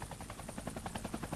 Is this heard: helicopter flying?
yes